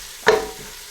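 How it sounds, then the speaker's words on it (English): Aubergine frying in a pan with chilli, coriander and cumin powders is given a single quick stir, a short scraping burst over a soft sizzle that fades back to a low hiss. "Just going to give that a little stir."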